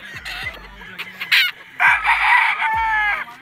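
El Gamma Gray gamefowl roosters, about seven months old, on a Philippine game farm: close, loud crows and clucks in several bursts, with low thumps between them.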